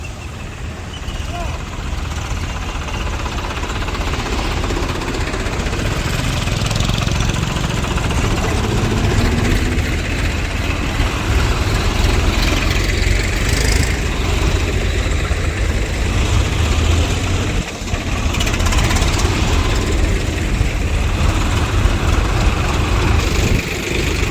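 Tractors idle at a farmers' tractor rally organised by Shiv Sena, a dense, steady low rumble of heavy engines with knocking vibration throughout, with crowd voices and talking mixed in.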